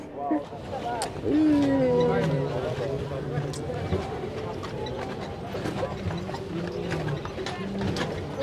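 Horse-drawn carriage ride in Central Park, New York, with hooves clip-clopping and the carriage rattling mechanically, close by and moderately loud, while people talk over it.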